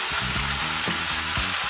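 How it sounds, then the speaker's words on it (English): Oxtail sizzles and sautés in its own juices in a pan, a dense continuous frying hiss with rhythmic stirring scrapes recurring every few tenths of a second, close and loud. "we're gonna let this saute in its own juices"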